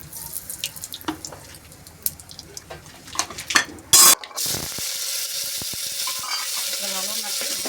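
Mustard seeds and asafoetida crackle and sizzle in hot oil for a Gujarati green undhiyu tempering: scattered kitchen clatter first, then a steady close, loud hiss after a brief sharp burst.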